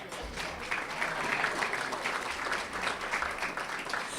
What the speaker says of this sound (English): that's what you need to applaud right now.